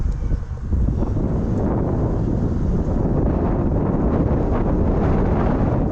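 Strong wind buffets the microphone outdoors among gorse in a constant loud, low rumbling roar with no letup.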